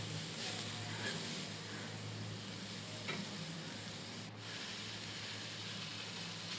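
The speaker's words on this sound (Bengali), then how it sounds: "টমেটো দিয়ে দু মিনিট আরও নেড়ে চেড়ে নেব" Chopped tomatoes are stirred in a hot pan while cooking a rohu fish curry with vegetables, producing a steady, close frying sizzle with scraping stir strokes throughout and no talk.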